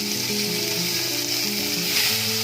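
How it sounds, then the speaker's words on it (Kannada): Quartered tomatoes for tomato chutney, fried in a pan with garlic, dried chillies and salt, sizzle loudly and steadily up close, with a constant hiss and no voices. "ಈಗ ಟೊಮೆಟೊ ಹಾಕಿ ಫ್ರೈ ಮಾಡ್ತಾ ಇದ್ದೀನಿ."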